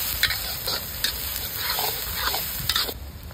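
Chopped onion fries in a pan with cumin, ginger and garlic for a masala bhendi dish, a steady sizzle broken by repeated scraping taps of a spoon stirring against the pan, close and continuous.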